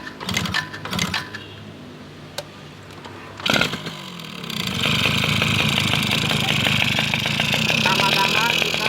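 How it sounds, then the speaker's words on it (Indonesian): A two-stroke motorcycle is kicked into life after a few brief knocks, then settles into a steady, buzzy, rattling idle that runs continuously and fairly loud, up close. "Langkah pertama, hidupkan motor."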